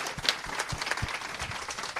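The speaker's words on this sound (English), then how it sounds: "Let's give her a big round of applause." Applause from an audience at a startup founder event, a dense wash of clapping with a few low thumps, steady and moderately loud through two seconds.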